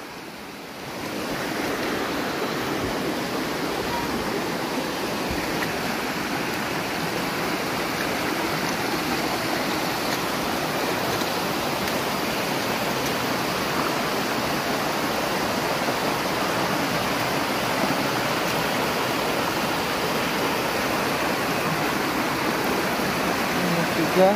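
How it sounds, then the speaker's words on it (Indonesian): Steady broadband rush of the Moi river's flowing water near its headwaters, continuous and fairly loud throughout, with no talk heard. "Dan selanjutnya kita menyusuri Sungai Moi."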